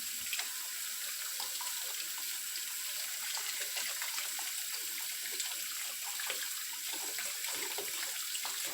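Water pours and splashes steadily from a tap while bicycle parts are rinsed clean after scrubbing, a constant close hiss of running water with no talking.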